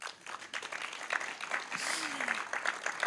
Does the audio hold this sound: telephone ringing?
no